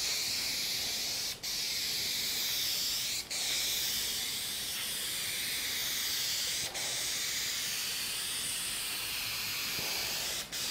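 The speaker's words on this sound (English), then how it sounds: "We're gonna go ahead and put on about two or three coats until it's covered." Aerosol spray paint can laying on coats, a continuous close hiss held steady with only a few brief dips as the nozzle is barely released, no voices.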